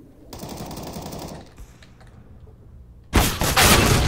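Bursts of CS:GO gunfire pierce wooden cover: a rapid rattling volley for about a second, a quieter lull with scattered clicks, then a louder, sharper burst of shots near the end.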